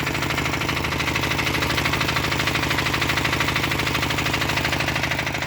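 A car engine drones loud and steady while the car is driven, with a constant rough hum and a rapid pulsing vibration and no break.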